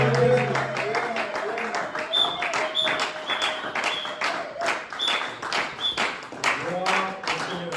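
A church congregation claps in a steady, rhythmic beat while voices chant and sing along, with the clapping running under the singing for several seconds.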